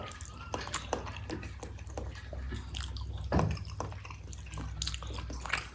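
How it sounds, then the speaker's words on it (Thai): A pot of Thai nam ngiao soup with pork bones boils steadily, giving a soft, continuous bubbling and popping texture at close range with small liquid splashes throughout. "เดือดเดือด"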